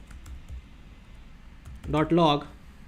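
Scattered light key clicks from a computer keyboard as JavaScript code is typed, followed by a brief burst of a voice speaking near the end.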